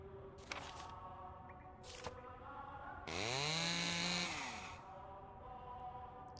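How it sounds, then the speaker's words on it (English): Harsh chainsaw-like revving in the horror game Death Mark: a couple of short mechanical bursts, then a loud sustained whine that rises and falls for over a second before fading, with no speech. "Can we not do the chainsaw noise?"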